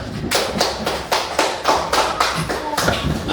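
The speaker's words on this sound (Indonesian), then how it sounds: "kita berikan tepuk tangan" Hands clap together in a steady, even rhythm, like a group clapping in unison, with a low murmur underneath.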